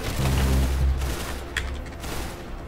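Gunfire in the Roblox-style shooter game Arsenal, a loud burst of rapid shots up front followed by fainter scattered shots and game noise.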